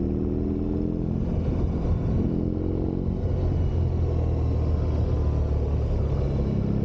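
A 2022 BMW R18 Classic motorcycle, a large boxer-engined cruiser, rumbling steadily while being ridden, its deep low-pitched engine note continuous and close, with wind noise and no talking.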